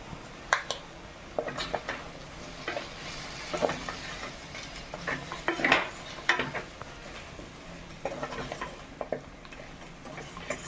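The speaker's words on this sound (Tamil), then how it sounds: "நம்ம நல்லா மிக்ஸ் பண்ணி விட்டுக்கலாம்." A spoon stirs chicken curry masala in a pan, with sporadic scraping and clinking against the metal in irregular bursts over a quiet background.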